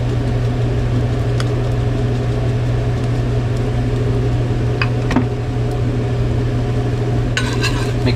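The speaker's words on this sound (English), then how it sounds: "Mix things up a little more." Breakfast burrito filling seasoned with pepper and salt being stirred in a pan, a steady close sizzle with a few brief scraping clicks of the utensil against the pan.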